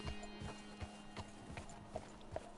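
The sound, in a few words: horse hooves walking in Red Dead Redemption 2 video game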